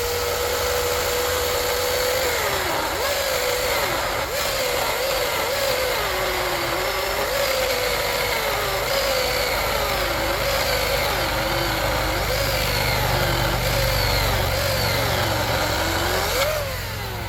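Husqvarna Power Axe 350i battery chainsaw cutting in regular mode, a continuous high electric motor whine that dips and recovers repeatedly as the chain bites into the wood, loud and close throughout.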